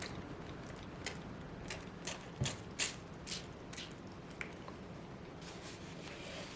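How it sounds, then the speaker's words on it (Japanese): A small water spray bottle spritzes sparingly onto a transparent watercolor painting, several short soft hissing puffs spaced irregularly over a faint background, close and quiet with no talk. "ちょっとスプレーを使いますね。 お水です。"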